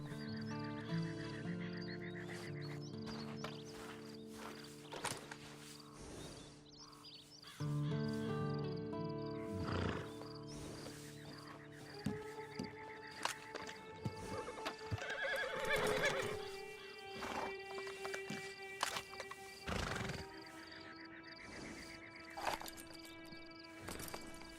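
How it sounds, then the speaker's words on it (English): Horse neighs and hoofbeats from Red Dead Redemption 2, with several loud whinnies repeating over about twenty-five seconds and clip-clop steps between them. "And you better get on this horse."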